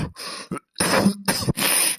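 A woman in a comic rural Kannada cartoon skit coughs and clears her throat in several harsh, close bursts separated by short pauses.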